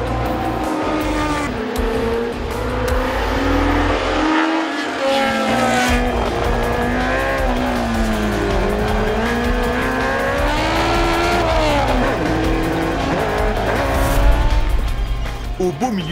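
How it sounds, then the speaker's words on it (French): Historic tube-chassis formula race cars lapping Spa-Francorchamps, loud engines rising and falling through gear changes as cars pass close, with tire squeal and a commentator speaking over them. "les formules qui ont attaqué les 7 km de la piste de Francorchamps ont offert un spectacle"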